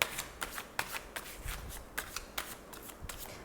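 Tarot cards are shuffled close by in a steady, repeated riffle, each soft papery burst following the last at a regular rhythm for a few seconds, quiet and heard on its own.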